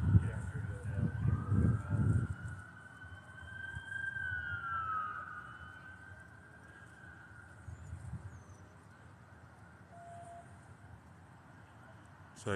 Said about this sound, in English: I hear more police cars coming this way.